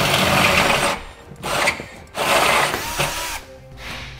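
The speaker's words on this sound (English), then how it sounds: "Now we'll enlarge our pilot hole to the final size of" A power drill bores into metal to enlarge a pilot hole for a Curt trailer hitch receiver, whining loudly in several close bursts with short pauses and changing pitch as it bites.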